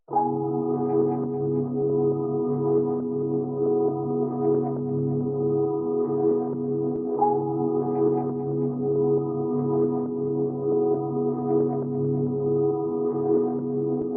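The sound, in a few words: pad synth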